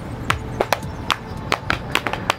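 Hands pat against the body in an uneven series of about a dozen soft, dull slaps, close by over a low background hum.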